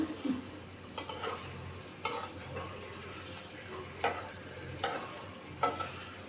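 Peanuts sizzle quietly in a pan as a spoon stirs them, giving soft scraping clicks at irregular intervals over a steady frying hiss.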